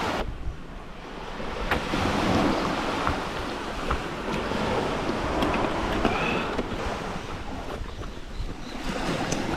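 Ocean waves break along a beach in a continuous, moderately loud surf wash with gusts of wind buffeting the microphone, and no voices.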